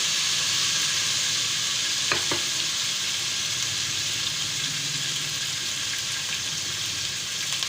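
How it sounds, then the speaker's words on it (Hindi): Garlic ginger paste sizzles in hot oil in a pan while being stirred, a constant dense hiss with a couple of sharp utensil taps early on, close and uninterrupted, without speech. "ये भी लहसुन अदरक का पेस्ट है, तो ये डालेंगे इसके साथ। मिक्स करेंगे।"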